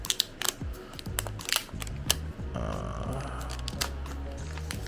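Plastic wrap is peeled off a Samsung Galaxy Z Flip 4 during unboxing, heard close up as crinkly rustles and small sharp clicks and taps, with a stretch of steady crackling toward the end.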